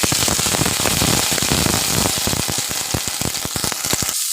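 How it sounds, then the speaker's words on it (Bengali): Cauliflower florets fry lightly in oil in a wok with a little salt and no turmeric, a loud, close, crackling sizzle with sharp spitting pops that grow sparser toward the end. "প্রথমে আমি ফুলকপিটা ভেজে নেব।"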